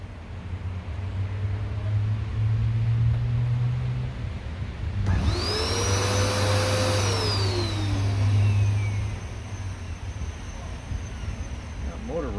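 A Hoover Smartwash carpet cleaner's motor hums steadily and loudly, changing pitch partway as it whines up and then settles, running continuously throughout.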